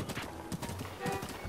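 Horse hooves clip-clop in the video game The Legend of Zelda: Breath of the Wild, a steady rhythmic trot of hoofbeats up close, with a faint neigh mixed in.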